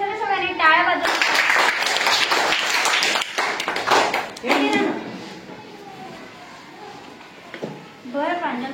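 Schoolchildren at a village primary school quiz clap for a classmate's correct answer, a loud burst of group applause that fades out, with children's voices and an adult speaking around it.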